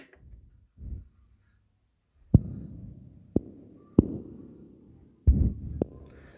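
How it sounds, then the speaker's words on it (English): Sharp percussive metallic plate hits, processed through a Clouds granular module, land in an irregular sequence of about six strikes, each followed by a short low, smeared decay over near silence. "It's just percussive sound from plates."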